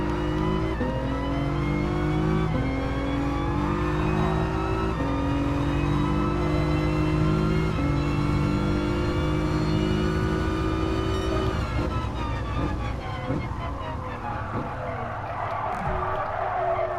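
A race car engine in Gran Turismo Sport revs loudly and continuously with stepped gear changes, then backs off near the end amid tire noise and a brief skid.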